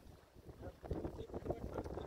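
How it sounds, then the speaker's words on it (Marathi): Strong wind gusts across a hilltop near Neral–Matheran, roaring and buffeting the microphone in a steady, blustery rush. "कसला सुटला वारा?"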